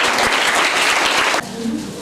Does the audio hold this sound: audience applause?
yes